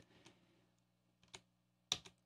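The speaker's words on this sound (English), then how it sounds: "I'm using my keyboard to tap it over one at a time" Computer keyboard keys tapped one at a time, three sparse, crisp clicks spaced irregularly over a faint background hum, close and fairly quiet, the last tap sharpest, with no talk.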